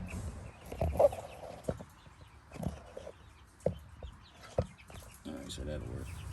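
Chickens cluck in short, irregular bursts from a barn pen, some calls louder and nearer than others, with a person talking intermittently over them.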